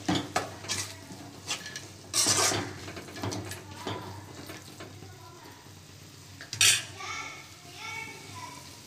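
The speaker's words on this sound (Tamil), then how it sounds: "கொஞ்சம் பச்சை வாசனை போற வரையும் வதக்கிக்கோ" Chicken gravy ingredients sautéing in a pan for a Keelakarai-style dish, a soft steady sizzle under repeated stirring scrapes and a few sharp utensil clinks against the pan, close by, with occasional faint voices in the background.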